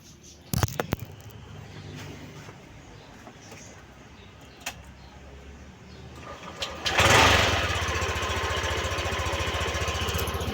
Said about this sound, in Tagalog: So painit muna tayo ng motor dito.